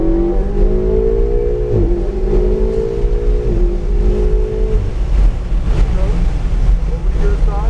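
Car engine accelerating around a coned driving course, a steady rising drone with gear-like pitch sweeps and heavy wind and rumble throughout, while an instructor talks over it.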